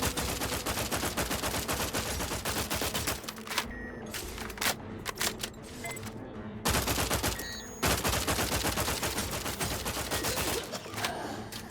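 Rapid sustained gunfire from The Outer Worlds 2 video game, dense bursts of automatic shots with brief lulls of scattered single cracks, loud and close throughout.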